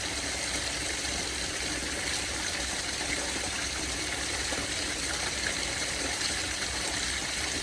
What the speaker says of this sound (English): Great, beautiful waterfall.